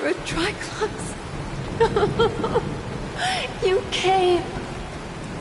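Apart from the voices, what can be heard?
rain falling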